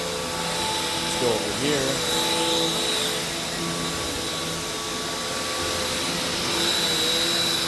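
A refurbished Hoover Taskvac vacuum cleaner runs steadily on carpet, its constant whine and airy roar holding throughout, with a person briefly talking over the motor.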